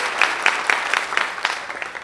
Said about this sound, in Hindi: आपसे निवेदन है कि एक बार जोरदार तालियां अपने लिए आप